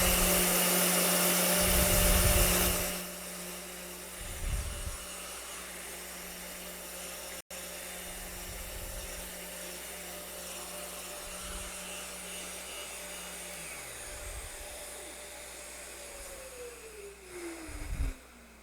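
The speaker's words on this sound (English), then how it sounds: "I'd finish with 220, just holding it on here" A wooden coaster made from found wood is sanded by hand with 220 grit sandpaper, giving soft, repeated rubbing strokes over a low background hum, fairly quiet and with no one speaking.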